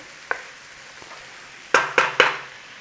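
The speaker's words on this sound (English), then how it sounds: "we're going in there with those leeks. A little sizzle on there, look." Leeks in butter sizzle in a pan in a few sharp crackling bursts, with one soft pop early on, then three loud close spits near the end.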